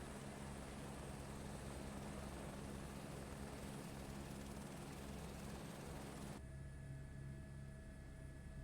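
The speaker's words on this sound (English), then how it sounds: "This is such a cool chopper." A helicopter flies in Microsoft Flight Simulator 2024, its steady droning rotor and engine hum holding a constant level before the tone abruptly shifts and thins near the end.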